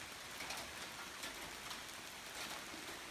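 Steady rain falling on and around an Appalachian Trail shelter in Virginia, a soft, even hiss of drops with no talk, fairly faint throughout.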